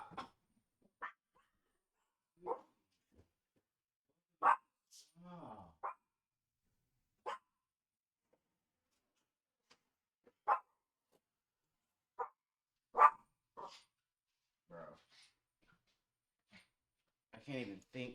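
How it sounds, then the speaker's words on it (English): Dogs barking in a home during a live stream, sharp isolated barks and yelps spaced a few seconds apart, fairly close and loud against near silence. "can't even think because you're barking so damn loud, Sasuke."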